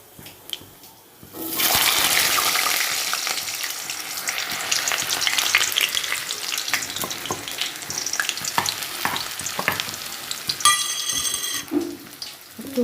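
Black cumin seeds hit hot oil and burst into a loud, close crackling sizzle that keeps up steadily with scattered pops, followed near the end by a short splashy water-like rush.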